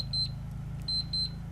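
Three bright electronic beeps in quick pairs sound from a discarded battery-powered device, fairly close, over a steady low hum on an off-grid high desert homestead.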